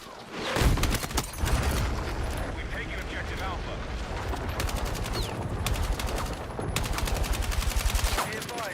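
Rapid bursts of automatic gunfire in Battlefield 6 rattle almost continuously, loud and close, with heavier booms near the start and a speaking voice occasionally under the shooting.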